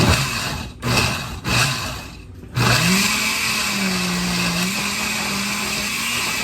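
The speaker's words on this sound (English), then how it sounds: "start blending" A blender whirs loudly while mixing seasoning ingredients for Haitian epis, sputtering in a few short bursts before settling into a steady, continuous grind with a slowly shifting motor pitch.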